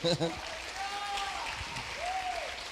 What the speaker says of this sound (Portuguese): Dê um aplauso aí.